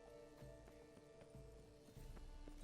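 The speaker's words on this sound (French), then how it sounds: "il me faudrait un cheval" Horse hooves clip-clop in a steady, quick rhythm in The Witcher video game, faint and fairly even over a low background hum.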